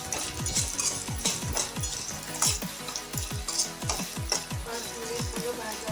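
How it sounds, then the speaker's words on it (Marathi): Garlic and ginger roast in a pan for a Kolhapuri misal masala, a continuous crackling sizzle with a quick, steady rhythm of stirring scrapes, close and even throughout. "आता हे खमंग भाजून घ्यायचे आहे."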